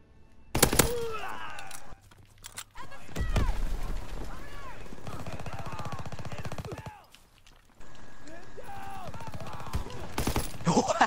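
Gunfire in Call of Duty WW2 comes as sharp, loud shots in several bursts with pauses between, mixed with game noise and excited voices talking over it.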